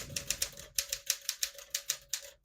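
A 1964 Classic 10 vintage portable typewriter clacks through about a dozen crisp, evenly spaced keystrokes, close and fairly loud, with a faint steady hum underneath.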